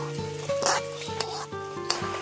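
Fried coconut being stirred into neyyappam batter, with scraping, clinking strokes against a pot at a steady rhythm over a faint sizzle, close and moderately loud, no talking.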